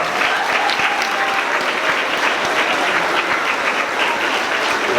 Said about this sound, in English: Can I get a round of applause for those kids?